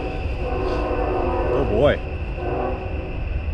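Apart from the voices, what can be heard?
train passing near creek campsite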